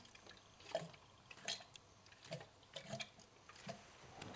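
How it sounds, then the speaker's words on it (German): Air bubbles gurgle through the coolant hoses of a VW Passat 35i during thermostat valve replacement, faint scattered blubbering and dripping pops, quiet and close, with no voices. "jetzt hört ihr richtig, wie das blubbert"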